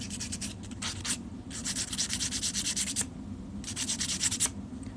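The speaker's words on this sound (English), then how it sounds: "make a nice chamfered edge on each and every tine." Sanding chamfers onto the tine edges of a custom harmonica comb, with steady rasping strokes that come in bursts, pausing briefly between passes, close and fairly loud with no talk.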